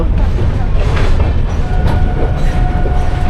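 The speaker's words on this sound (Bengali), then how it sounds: "আমাদের ট্রেন গুয়াহাটির দিকে এগিয়ে চলেছে" A train runs toward Guwahati near Kamakhya Junction, giving a loud, steady rumble with rolling wheel noise that fills the whole stretch without a break.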